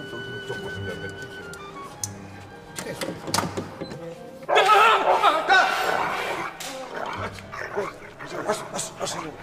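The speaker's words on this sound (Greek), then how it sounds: "Καλό σκυλάκι." A dog in a Greek apartment-building sitcom scene barks in short separate bursts early on, followed by louder clattering noise and then people talking over a faint background.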